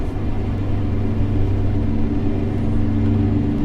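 A Cummins NH 230 diesel engine pulls a truck uphill on the Grapevine grade in California, making a loud, steady low rumble that holds without a break and has no talk over it.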